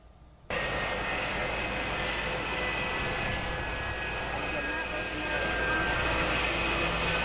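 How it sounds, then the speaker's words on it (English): Air Force One, a large jet airliner, taxiing at an airport in Montana, its engines abruptly loud and sustained with a steady broadband roar and high whine, close by, with no talk over it. "Air Force One has just pulled up behind us."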